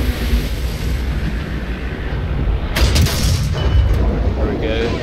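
Tank cannon fire and rumbling battle noise in the video game War Thunder, a sustained loud roar with a sharp blast near the middle, no speech.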